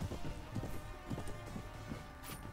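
Horse hooves in the video game A Game of Thrones clatter in a quick, uneven clip-clop rhythm under a steady background hum of game sound, moderately loud and close.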